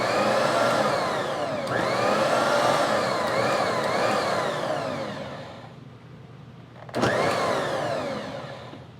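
A Bosch Universal Plus stand mixer runs on its manual setting with the lid on, giving a loud whirring motor hum that rises and falls in speed, drops off briefly, then surges back.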